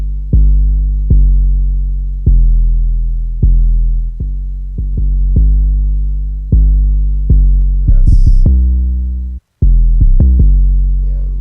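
Booming kick drums and deep sliding 808 bass notes hit in a loose hip hop pattern, loud and up front, with a brief hiss near the end and no voices.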